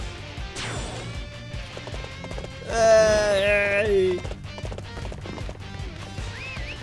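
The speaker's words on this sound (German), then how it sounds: "Rufen Sie das Pferd herbei." Horse in the Dynasty Warriors 8 video game: rhythmic hoofbeats run through the stretch, with a loud neigh or whinny in the middle, and a voice calls out over the game sounds.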